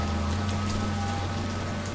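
Steady rain in a video game, an even patter and hiss that holds for the whole moment, joined by a low constant hum and with no voices.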